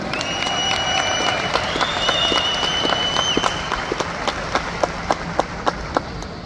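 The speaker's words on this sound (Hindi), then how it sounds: "मैं आप सबसे रिक्वेस्ट करता हूं क्या इन सभी 1800 अचीवर्स के लिए एक जोरदार राउंड ऑफ तालियां हो जाए।" An audience at an awards meet applauds its 1,800 achievers, a sustained crowd of clapping that thins into a few loud, evenly spaced single claps near the end.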